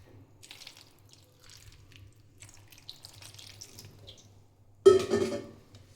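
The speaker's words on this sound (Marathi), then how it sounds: "त्यासाठी मिरची धुवून घ्यायची" Chillies rinsed under a running kitchen tap, a short loud splash of water near the end after quiet handling sounds.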